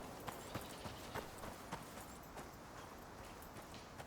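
Horse hooves clip-clop steadily in the Icarus survival game, a quick run of light, evenly spaced hoof strikes over a constant hiss of ambient background, with no talking.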